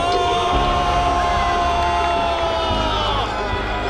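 A stadium crowd roars after a goal in a football match, a loud, continuous mass of cheering and whooping voices that stays steady throughout.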